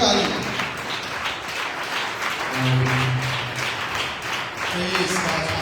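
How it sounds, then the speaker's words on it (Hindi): Church congregation at a Sunday service giving loud applause for a testimony, a sustained wash of clapping mixed with voices and talk throughout. "जोरदार ताली।"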